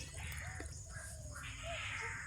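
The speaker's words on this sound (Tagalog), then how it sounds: "Daming humuhuni na ruwak-ruwak dyan mga idol oh." Several birds call outdoors around farmland where pest-control trapping is under way, giving harsh, crow-like caws at a moderate distance over a steady background hiss.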